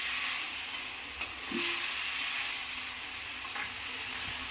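Steady oil sizzle from frying food for an elephant foot yam and chickpea kuzhambu fills the clip, with a few brief scraping stirs breaking through the constant crackling hiss.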